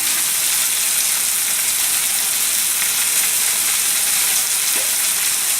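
Food sizzling in a hot cast iron skillet while a filet mignon dinner is cooked: a steady, close, hissing fry that stays even throughout, with no one talking.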